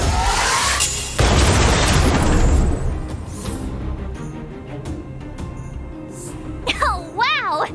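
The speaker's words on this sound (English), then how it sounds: "We wiped them all out in a single explosion!" A video-game explosion wipes out a group of enemies: a loud booming blast with a long noisy rumble that gradually fades, followed by quieter game effects and a rising, warbling electronic sound at the end.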